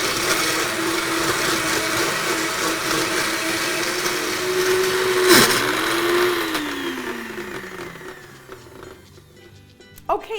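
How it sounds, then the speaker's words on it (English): A kitchen blender crushes ice for a coconut milk drink, its motor whirring loudly with a steady grinding drone, then pitching down and winding to a stop before a couple of faint clinks. "now that we've got the blender started and got the ice crushed a little bit"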